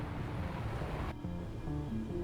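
Open-ocean ambience in the naval game Sea Power, soft surf and wind wash that shifts partway through to a calmer, quieter sea bed with faint low tones.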